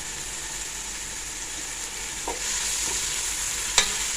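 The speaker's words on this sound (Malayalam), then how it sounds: "ഇനി കുറച്ച് കറിവേപ്പില ഇട്ട് കൊടുക്കട്ടെ" Curry leaves, ginger, garlic and tomato frying in oil for a Malappuram-style biriyani, a steady close sizzle with a few sharp pops and spatters, no voices.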